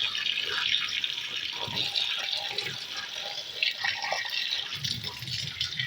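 Water runs steadily from a tap while clothes are washed by hand, a continuous close hiss and splash with faint sloshing underneath.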